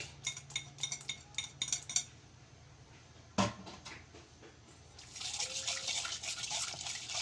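A utensil clinks and scrapes against a bowl while garlic is mixed into a salted milkfish marinade: rapid close taps, one sharp knock, then a steady wet hiss.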